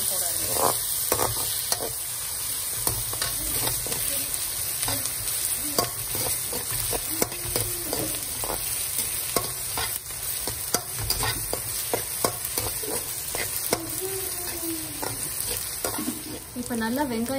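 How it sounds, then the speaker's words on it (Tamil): Onions sautéing in a pan for a Tamil mutton kola urundai kuzhambu, with steady close frying sizzle under frequent scraping spoon strokes throughout, no voices. "இப்போ நல்லா வெங்காயம் வதங்கிடுச்சு."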